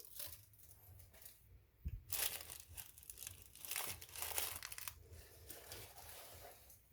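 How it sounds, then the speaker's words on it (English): Paper wrapping being unfolded and pulled off a boxed NPZ PO 4x24 rifle scope: steady crinkling and crumpling close by, with a sharper tearing rustle about two seconds in, no talk. "It's of course wrapped in this paper stuff here."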